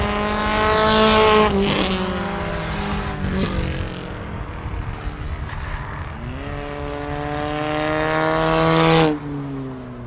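Street stock race cars at the checkered flag, engines roaring past close by with rising and falling pitch as several cars sweep through in quick succession.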